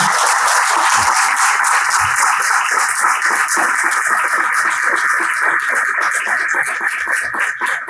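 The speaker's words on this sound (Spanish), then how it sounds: "Les pido un aplauso" Audience applause at a conference, dense sustained clapping from many hands that stays loud throughout and tapers slightly at the end.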